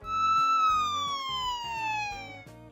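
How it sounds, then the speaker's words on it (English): A police car siren wails alone in a steady, loud descending tone over a rhythmic musical backing, lasting under three seconds. "Police car."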